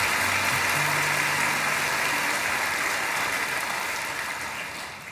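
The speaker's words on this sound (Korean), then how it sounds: "다시 한번 우리 귀한 자녀들 큰 축복의 박수합니다." A church congregation at an early-morning prayer service applauds its children in blessing: dense, sustained clapping that fills the space loudly, fading slightly toward the end.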